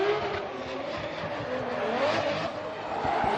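Formula Drift car revving and sliding during qualifying in New Jersey, a distant engine note wavering and rising under crowd-like ambient noise, moderately faint.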